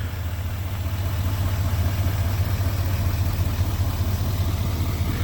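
A 2020 GMC Sierra 3500HD pickup with a 6.6-liter Duramax diesel engine sits idling. The low, steady rumble holds an even drone throughout, with nothing else heard.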